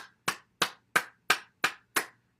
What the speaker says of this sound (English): And then we'll start with our clapping.